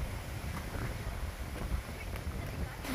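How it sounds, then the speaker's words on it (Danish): Stormy wind roars steadily outdoors, buffeting the microphone with a dense, continuous low rumble and rushing noise, loud and close throughout. "det blæser sindssygt her, altså"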